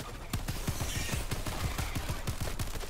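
Autocannon fire in the video game Helldivers 2: a rapid, steady burst of heavy booming shots, roughly five per second, loud and continuous over a dense battle din, with no speech.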